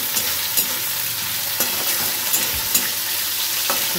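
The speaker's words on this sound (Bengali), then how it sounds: "চলো আলু ভাজাটা ভেজে নিয়ে সবাইকে খেতে দিয়ে দেওয়া যাক" Sliced potatoes fry in a pan with a constant hiss of oil, broken by a scattering of sharp spatula scrapes and taps as they are stirred, all close and alone.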